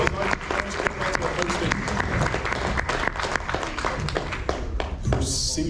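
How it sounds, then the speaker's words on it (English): Audience applause at a convention panel, a sustained crowd of sharp, closely packed claps with a voice talking over it throughout. "Yes, round of applause."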